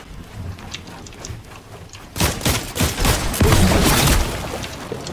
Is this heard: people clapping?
no